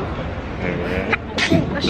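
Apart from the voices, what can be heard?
sneeze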